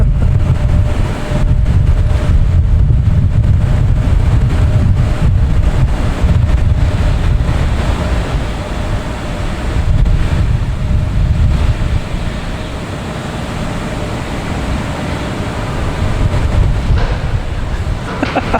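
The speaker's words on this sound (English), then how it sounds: "And the wind's picking up." Strong, steady wind buffeting outdoors at Boston Logan Airport, a loud low rumble that swells and eases throughout with no voices.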